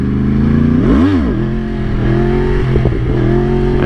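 A Yamaha R1 1000cc sport motorcycle engine revs loudly and close, its pitch sweeping up sharply and dropping back once before settling into a rough, buzzing idle with mechanical clatter.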